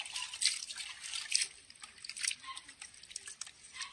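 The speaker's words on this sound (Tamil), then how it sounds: "நல்லா தண்ணி ஊற்றி அலசிக்கலாம் மீனை." Water trickles and splashes in soft, uneven spurts as it is poured to rinse cut fish in a pot, fairly faint and close, with no voices.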